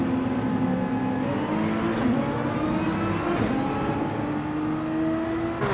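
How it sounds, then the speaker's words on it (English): Race cars in a sim racing game leave the pit lane at Monza, a dense, steady engine drone with layered harmonic whines of several cars accelerating together at a constant loud level. "Pit lane opens, the cars start peeling their way out."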